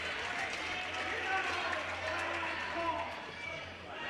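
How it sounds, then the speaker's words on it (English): The home crowd at a Worth County girls' high school basketball game cheers in a steady, broad roar filling the gym, with a commentator talking over it. "now the Worth County crowd heard from"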